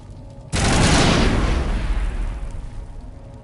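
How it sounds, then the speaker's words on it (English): A grenade blows up in the Mass Effect game with a sudden loud boom that rolls into a long, rumbling roar of gunfire and debris, then slowly fades. "It takes a long time for that grenade to fucking explode."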